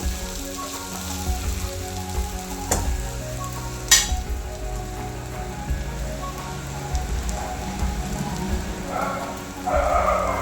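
Leftover idiyappam mixture made from rice flour sautéing in a pan, a continuous rain-like sizzle with stirring scrapes, two sharp knocks early on and a louder hiss near the end, with no talk.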